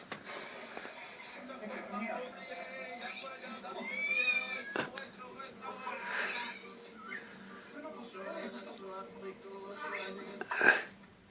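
Cats meowing from a television programme, heard indoors as faint, scattered mews under steady background noise, with a few louder calls near the end while people talk in the room.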